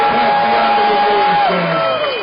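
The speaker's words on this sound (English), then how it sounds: "Let's give a big round of applause." A crowd at a Halloween parade in Galena, Illinois cheers and whoops for local veterans. Sustained mid-distance crowd noise with raised voices, fairly loud and continuous throughout the short stretch.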